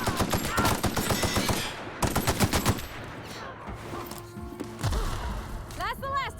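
Light machine gun fired by a companion in The Outer Worlds, loud rapid automatic bursts over the first few seconds, then thuds and impacts, with voices in the background.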